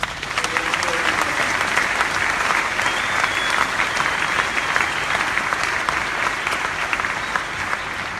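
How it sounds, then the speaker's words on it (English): A large crowd at a military graduation ceremony gives a big round of applause, loud and sustained, with dense steady clapping filling the whole stretch without letting up. "So please join me in a big round of applause."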